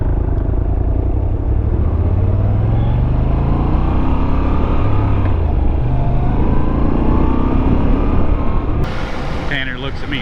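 A Husqvarna 701 and a Moto Guzzi V7 Stone ride near the Cave Run spillway, making a constant loud engine drone with rising and falling revs through gear changes, thick wind rumble and voices talking over it.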